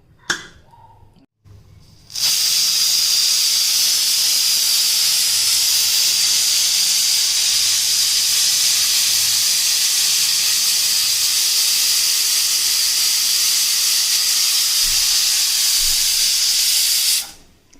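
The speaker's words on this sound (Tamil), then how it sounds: "2 விசில் வந்துடுச்சு." A kitchen pressure cooker on a gas stove, cooking green-chili sambar, lets out a loud, continuous steam whistle that starts abruptly after a brief pause and hisses steadily for about fifteen seconds before cutting off.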